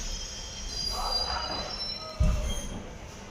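On a winter night, a local train pulls out of Fulia station toward Habibpur, with a high metallic squeal of wheels on rails over a low rumble, and a sudden heavy thud partway through.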